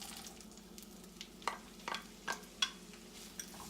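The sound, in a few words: chopped onion frying in hot oil and butter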